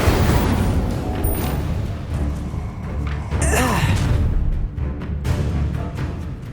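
The Incendio fire spell in the Hogwarts Legacy video game: a short fiery whoosh and burst near the middle, cutting through a dense, steady rumble of combat noise.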